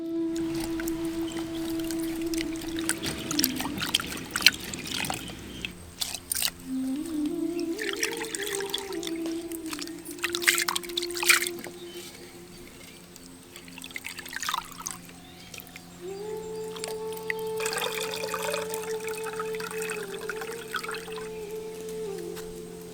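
Water poured over split horse gram lentils to rinse them, giving soft intermittent trickles and drips close by, with a low steady tonal hum running underneath and no talking.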